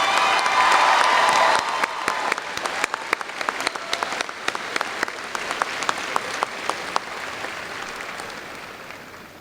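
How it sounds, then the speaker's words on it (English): A crowd at a high school graduation ceremony applauds the class valedictorians, with a loud burst of clapping and cheering at first that thins into scattered, distinct claps. "Please join me in applauding the class of 2018 valedictorians."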